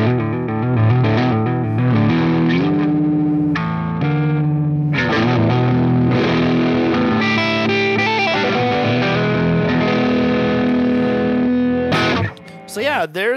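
Electric guitar played through a distortion pedal on a HeadRush pedalboard, loud, heavily driven chords and sustained notes ringing close and continuously, ending in a brief scrape of strings.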